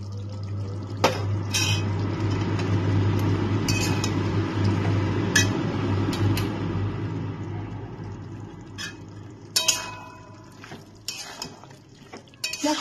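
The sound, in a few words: adding chili, poppy seed and garlic paste to ridge gourd and potato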